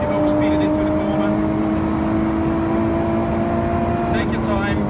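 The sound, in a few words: Lotus Evora 410 Sport driving on track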